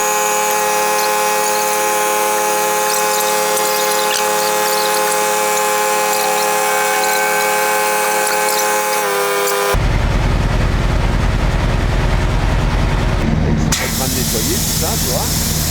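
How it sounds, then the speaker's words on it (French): A new tyre is fitted onto a wheel rim in a tyre shop. Steady machine hiss and whine run for about ten seconds, then a louder, rougher burst of air and tool noise follows, with a brief drop near the end. "Et là il est en train de remonter le pneu neuf."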